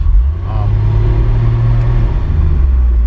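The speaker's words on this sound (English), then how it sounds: "it's not really exhaust noise, it's engine noise that you hear" A Porsche 993 sports car engine idles and rumbles with a deep, throaty tone, briefly rising in pitch before settling back into a steady growl.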